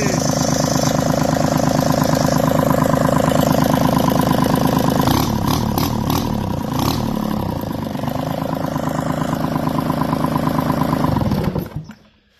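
A sailboat's engine, running without its manifolds, idles with a loud, raw, rattling drone, its rhythm shifting partway through, then shuts off at the end.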